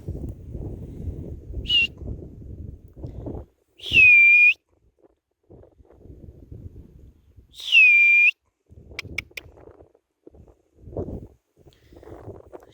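Several short, sharp whistles from a person calling a horse ring out over quiet rustling and muffled background movement, with pauses between them.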